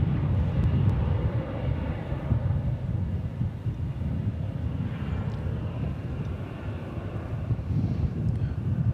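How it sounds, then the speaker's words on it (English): Airplanes at DFW Airport, a distant continuous low rumble of jets coming in to land on the east side, with outdoor wind noise and no speech. "we can see flights that are coming in for a landing over there on the east side"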